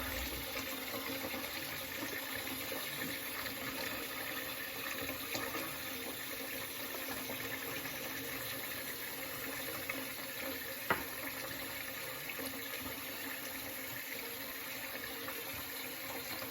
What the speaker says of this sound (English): get some hot water going there.